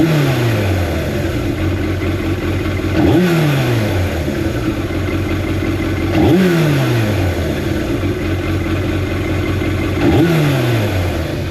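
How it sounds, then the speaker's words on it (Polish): A Yamaha FZR600 Deltabox motorcycle engine idles steadily, with three quick throttle blips roughly every three seconds, each rev rising sharply then settling back down. Loud and close. "zobaczcie jak motocykl pracuje stabilnie"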